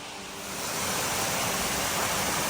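The Gostilje Waterfalls in Serbia roar as a dense, steady wash of falling water that swells louder after the first half-second and then holds, with no voices.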